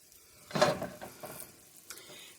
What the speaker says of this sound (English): lightly brush oil on the side of this corn tortilla and put that down in the pan